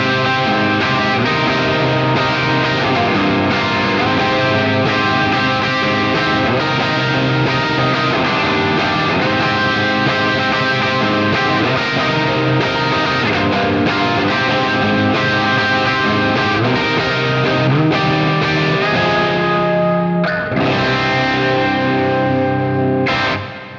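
A crunchy overdriven electric guitar plays sustained ambient chords through a UAFX Heavenly Plate reverb pedal, loud and continuous with a dense wash of plate reverb, ending in a brief break and a final swell.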